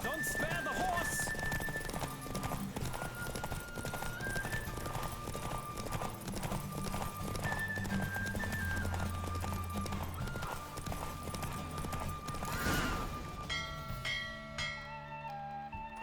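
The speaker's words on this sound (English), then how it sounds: "Don't spare the horse." Rapid hoof clip-clop of a galloping horse in a race in the video game The Witcher 3: Wild Hunt runs steadily under lively music, with a brief whinny and bell-like tones near the end.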